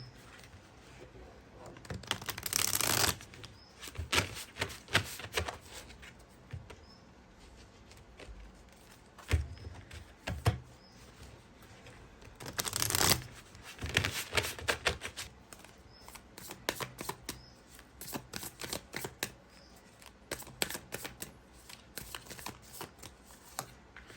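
Tarot cards shuffled by hand in two long riffling bursts with scattered card flicks and taps between them, close and fairly quiet, with no talking.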